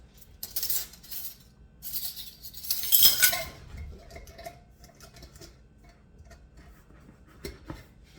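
A spoon clinks and scrapes against a container in a short burst of stirring homemade yogurt into cream, with a brighter clatter midway, then quieter handling noises.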